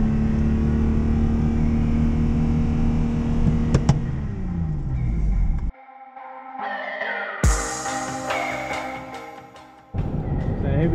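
A Jaguar XJ-S V12 engine drones and revs on a track lap at Mallory Park, loud and close, with abrupt shifts in pitch and a quieter stretch before the roar returns.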